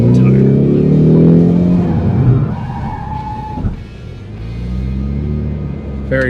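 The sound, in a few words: 2024 Ford Mustang 4-cylinder EcoBoost engine driving on track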